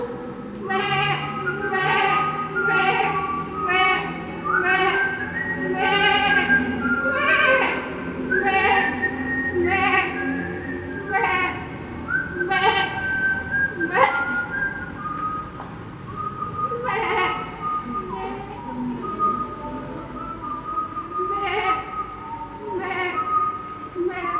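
Sheep bleating in a children's Sunday school setting, repeated wavering calls recurring steadily throughout, fairly close and clear, with faint background voices.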